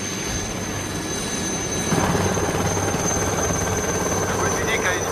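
A helicopter drones with a steady, dense rotor and engine roar at an emergency scene near a hospital transfer, loud and continuous throughout.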